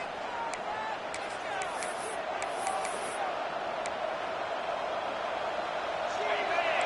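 A home crowd roars in NCAA College Football 26, a dense, continuous stadium wash of noise that holds steady throughout with scattered whistles and cheers on top, under commentary.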